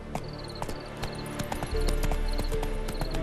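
Horse hooves clip-clopping in The Witcher 3, a steady trotting rhythm of close, distinct hoof strikes over a low ambient game soundscape, with a brief whinny-like tone.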